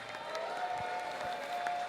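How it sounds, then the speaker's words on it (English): A robot combat tournament audience applauding a team, with a brief patter of clapping from a modest crowd over a steady background hum. "can we have a big round of applause for Scottish Roboteers driving 7 hours to be here?"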